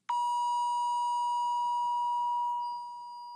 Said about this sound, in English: 963 hertz. This is divine consciousness or enlightenment.